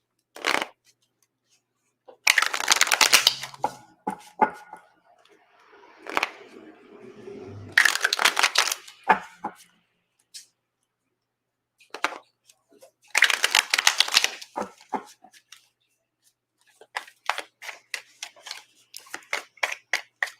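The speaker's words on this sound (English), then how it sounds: "I'll pull one card from tarot." Tarot cards shuffled by hand in several rapid riffling bursts separated by quiet gaps, close and crisp, with no talking.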